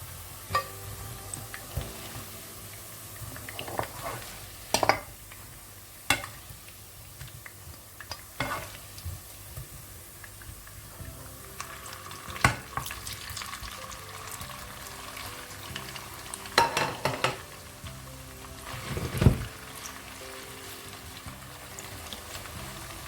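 Steady sizzle of meatballs frying in a pan, with occasional sharp clicks and taps of a utensil against the pan.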